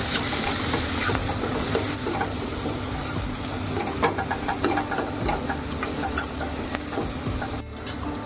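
Asafoetida being mixed into a frying dish of field beans, with a loud continuous sizzle and occasional scrapes of a spoon stirring in the pan.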